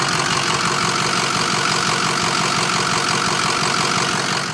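A 2005 Ford F250 4x4 diesel idles close by with a steady, rattly, knocking clatter that holds level throughout, with no voices over it.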